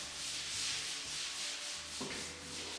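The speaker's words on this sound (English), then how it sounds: "We're scrubbing our solution in both horizontally and vertically to make sure that we're covering all the surface." A brush scrubs a cleaning solution into a concrete garage floor, making a steady, continuous rhythmic scrubbing with strokes back and forth and no voices.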